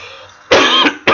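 A person with a cough in a hot room lets out two harsh, close coughs, the first long and rasping with a brief catch, then a second shorter burst after a short pause.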